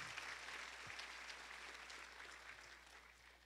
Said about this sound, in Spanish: Dale un fuerte aplauso al Señor por su amor y su misericordia